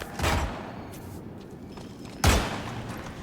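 Two loud, sharp gunshot bursts in the HITMAN video game, one near the start and another past the two-second mark, each with a ringing tail over low background ambience.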